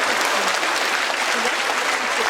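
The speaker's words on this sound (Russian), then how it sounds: "Нескончаемые аплодисменты." Sustained, unbroken applause from a theatre audience at a literary year closing ceremony, a thick, loud, even roar of many hands that carries on without pause.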